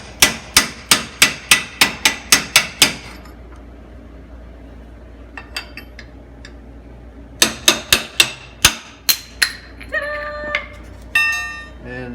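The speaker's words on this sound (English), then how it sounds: "I was having a heck of a time trying to get it with the hammer on here, even with the big hammer" Hammer blows on a metal part during maintenance of a Ferris IS700 mower: a quick run of loud, ringing strikes, a pause with small clinks, then another burst of sharp hits.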